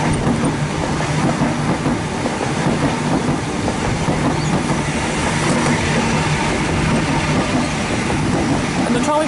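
A Sydney Oscar suburban train passes a station platform at Thornleigh, a steady loud rumble with rhythmic wheel clatter over the rails, unbroken from start to finish.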